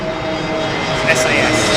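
A Scandinavian Airlines (SAS) jet airliner at London Heathrow Airport gives a steady, continuous engine roar that holds at an even level throughout, with a faint voice in the background.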